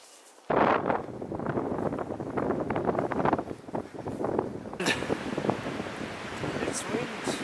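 Gusty wind buffets the microphone on an icy bridge over a big river along the Appalachian Trail in snowy conditions, a loud, broad, continuous roar with shifting surges and no clear voices.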